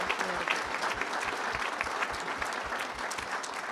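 A crowd claps steadily for award honorees, a dense patter of applause held at an even level throughout.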